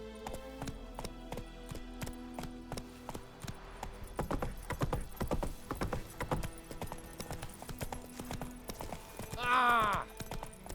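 Roach the horse's hooves clip-clop at a walking pace in The Witcher 3, rhythmic wooden-sounding steps that speed up briefly, with a short whinny near the end and game voices in the background.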